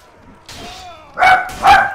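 A dog in Mount & Blade Warband: a soft yip, then two loud, close barks in quick succession.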